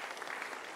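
Church congregation clapping hands during an Ascension Day worship service, a brief dense wash of applause from a crowd, fairly soft and heard alone.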